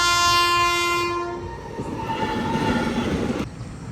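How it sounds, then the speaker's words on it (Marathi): A train sounds a long loud horn nearby, then rumbles and clatters past on the rails, fading off after a few seconds. "तर मित्रांनो एक ट्रेन गेलेली इकडनं, इकडच्या साईडने गेलेली ती."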